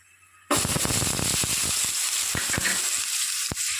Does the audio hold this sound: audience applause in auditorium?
no